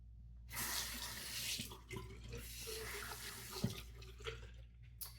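Water pours and trickles from a shaving scuttle into a sink, a continuous close splashing stream with a few small knocks, no talking.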